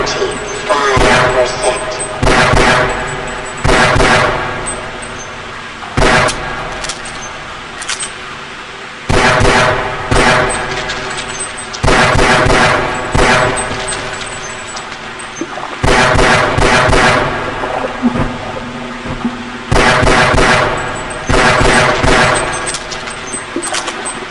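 Bursts of gunfire from the Half-Life video game, loud sharp shots in repeated clusters with short gaps between them, mixed with metallic clangs over a steady background.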